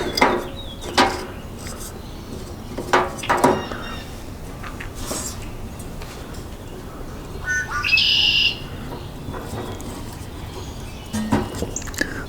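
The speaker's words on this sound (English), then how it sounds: "Birds are out here in full force making a lot of noise" Outdoor birds chirp and call in scattered bursts, with a brighter squawking call partway through and a few sharp knocks or taps between, moderately close over a quiet background with no speech.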